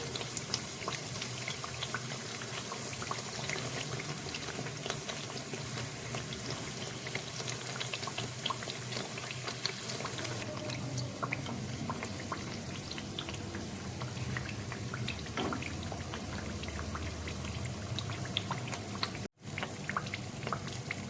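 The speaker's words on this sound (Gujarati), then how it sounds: "મીડિયમ ફ્લેમ ઉપર જ પૂરીને તળવાની રહેશે, જેથી કરીને અંદર સુધી તળાઈને ક્રિસ્પી થઈ જાય અને પડ છૂટા પડી જાય." Layered farshi puri deep-fry in oil over a medium flame, a continuous dense bubbling crackle like light rain, steady and close, running on without a break.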